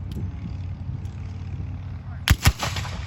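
Musket volley fired by Civil War reenactors outdoors at a brewery: two sharp, booming reports close together after a low rumbling background, with voices present.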